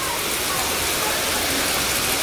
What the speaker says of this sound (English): It's so much rain.